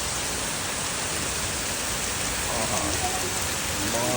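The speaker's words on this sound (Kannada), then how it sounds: "ಮಳಿ ನೋಡ್ರಿ ಇಲ್ಲಿ ಬರೀ ಮಳಿ ಸೌಂಡ್ ಕೇಳ್ರಿ ನೀವು." Heavy rain pours steadily close by, a dense unbroken hiss of drops hitting surfaces, with a faint voice under it near the end.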